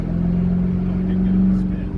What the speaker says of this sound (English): I'm sure it'll spin a little bit, but with these off-road tires, it's actually going to launch.